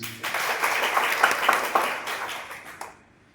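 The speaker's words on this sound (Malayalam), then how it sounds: "അവർക്ക് വേണ്ടി ഒരു വലിയ കയ്യടി പ്ലീസ്." An audience applauds a performer at a stage programme, a dense wash of clapping from many hands that builds, holds steady for about two and a half seconds, then fades out quickly near the end.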